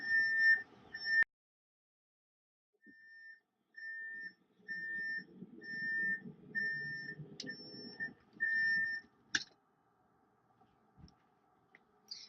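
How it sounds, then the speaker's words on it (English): A 2000 Fleetwood Pace Arrow RV slide-out warning beeps high in a steady rhythm for several seconds as the slide moves, with a low mechanical rumble beneath, then stops with a few clicks. "So as I put this out, you'll hear beeping, and you will see the slide retract out."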